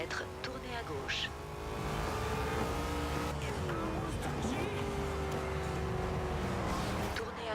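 A car engine drones steadily in a driving video game, loud and continuous with shifting pitch as it accelerates, while someone talks over it.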